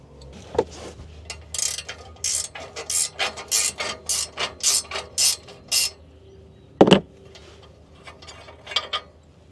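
A hand ratchet clicks in quick rhythmic bursts while loosening an exhaust bolt under a Lexus RC, with a brief pause, a sharp metallic knock, then a few more close clicks and no talking.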